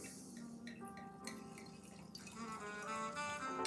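Wine poured into a glass, a quiet liquid trickle and glugging with faint glassy ringing, growing slightly fuller toward the end as the glass fills.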